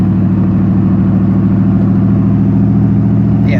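A Genesis car's engine runs loud and close during a downshift while racing a supercharged Ford F150, a steady, strongly harmonic drone that holds nearly level throughout with no talk over it.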